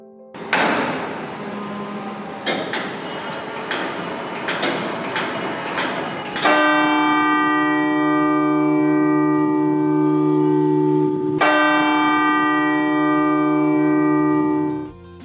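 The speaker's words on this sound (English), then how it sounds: "There is a wire in front which pulls the bell gong" A bronze clock tower bell gong pulled by a wire in the Secretariat Clock Tower in Patna: several quick metallic strikes, then two loud ringing gongs whose tones hang and slowly decay, close and clear.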